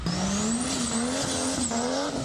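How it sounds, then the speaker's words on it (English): Street racing cars drift around a shipping yard, with a loud, continuous engine roar rising and falling under sustained tire squeal throughout, close and with no talking. "With dozens of cars lining the shipping yard, drivers kicked up smoke and drifted"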